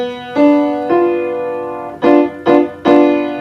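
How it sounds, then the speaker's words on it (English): A diminished triad chord rings out four times, a long sustained strike followed by three shorter, separate hits, each chord clear and loud with no talking. "diminished triad. So that sounds like this."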